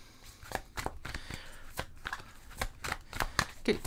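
Tarot cards being shuffled by hand, a series of crisp riffling bursts and slaps in an uneven rhythm, close and fairly loud with no talking.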